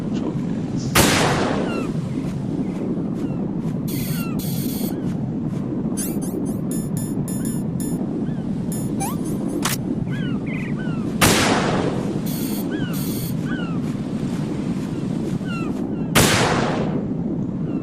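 Gunfire aimed at control units in Metal Gear Solid 2, three loud booming shots spaced several seconds apart over dense rumbling game noise with scattered electronic chirps.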